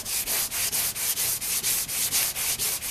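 Sandpaper worked by hand over a car body panel during auto body repair, a close, steady back-and-forth rasping with about a dozen even strokes in quick succession.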